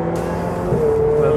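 A Ferrari 488 Pista engine on a dry track holds a loud, steady drone that rises in pitch toward the end as it revs up, with no talking over it.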